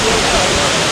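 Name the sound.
waterfall on Siquijor Island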